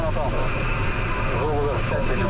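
A steady, loud drone of a small propeller tow plane's engine runs throughout, with muffled voices over it.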